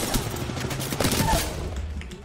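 Rapid gunfire from Apex Legends, including bursts that sound like a Prowler, crackles in quick repeated volleys, moderately loud and continuous, with no voices over it.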